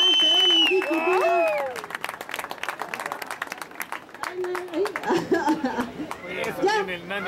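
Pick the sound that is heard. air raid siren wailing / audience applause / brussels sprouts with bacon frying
audience applause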